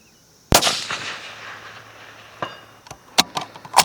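One loud, sharp long-range rifle shot cracks out and rolls away in a long echoing tail, followed a few seconds later by several small, quick mechanical clicks and knocks nearby.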